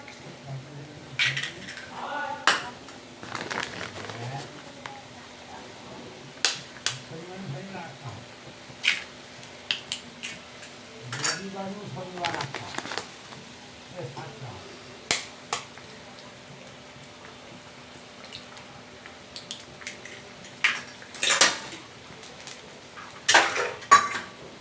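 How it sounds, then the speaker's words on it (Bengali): A fork cracks and works an egg in a bowl for a Chinese-style curry, making sharp metallic clinks and taps at irregular intervals under a person's steady talking. "এই যে একটা কাঁটা চামচ দিয়ে ডিমটাকে এরকম করে ফাটিয়ে নেব"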